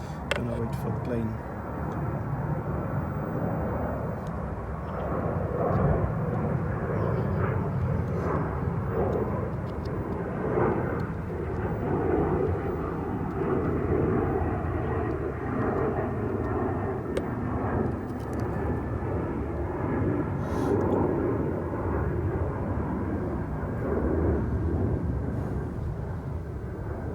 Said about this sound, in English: gonna wait for the plane.